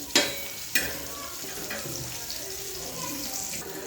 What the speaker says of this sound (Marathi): हे बघा मस्त अशी फ्राय झाली मिरची